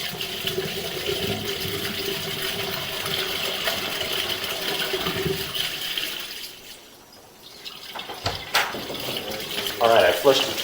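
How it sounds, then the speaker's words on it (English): A toilet flush sends water rushing down a residential main lateral sewer line. The steady, close rush briefly fades, then surges back with gurgling splashes. "All right, I flushed the toilet. You're going to hear it, and you'll see a rush of water in a second."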